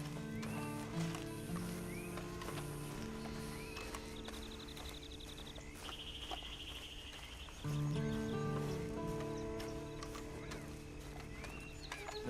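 Horse hooves in Red Dead Redemption 2 clip-clop at a steady, moderate pace against ambient background with faint birdsong and a few bright chimes, no talk over it.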